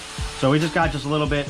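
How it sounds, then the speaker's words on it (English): A power drill whines in short bursts in the background of a racing workshop while someone talks over it. "I apologize for the guys drilling some stuff in the background"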